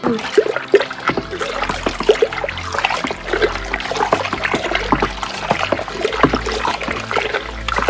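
Water sloshing and trickling as a dye-removal solution is stirred by hand in a basin, with irregular splashes and dribbles continuing steadily throughout.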